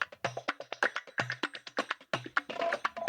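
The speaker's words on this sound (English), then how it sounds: "Eastern sounding drum beat," A rhythmic Eastern-flavoured drum pattern from a minimal deep house track, with repeated hand-drum-like hits in a steady loop, fairly quiet and dry, heard alone without talk.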